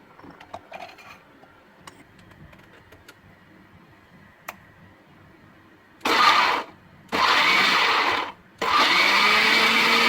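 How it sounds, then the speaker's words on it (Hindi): An electric grinder whirs loudly in three long bursts, grinding ginger, garlic and chili paste in a home kitchen, after quiet background ticks and clatter. "इसके साथ हम दूसरी तरफ यह ग्राइंड कर लेंगे। ये हमारा जिंजर गार्लिक और चिलीज़ की पेस्ट बना लेंगे।"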